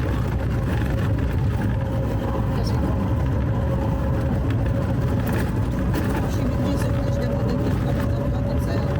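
A car travels steadily along a restored road near Piski and Bodakva, its engine a continuous low drone close by, with road and wind noise filling the background throughout.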